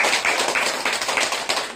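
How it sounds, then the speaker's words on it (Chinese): An audience at a Christmas thanksgiving event for a disability care and education centre in Kinmen claps loudly and steadily as warm applause for volunteers, dense and continuous throughout. "我们来一个热烈的掌声，感谢他们"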